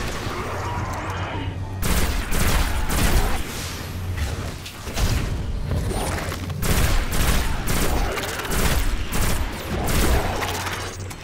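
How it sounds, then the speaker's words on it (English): Sustained gunfire in the video game Destiny on the moon, with dense volleys of rapid shots crackling almost continuously and loudly, swelling and easing in waves across the stretch. "People are already shooting at me."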